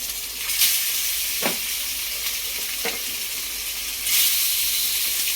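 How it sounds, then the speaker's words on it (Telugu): Murrel fish pieces dropped one by one into hot oil for a simple fish fry, giving a steady loud sizzling hiss with sharper crackling surges as each piece goes in, no voices. "ఒక్కొక్క ముక్క అయితే ఆయిల్లో వేసేద్దాం"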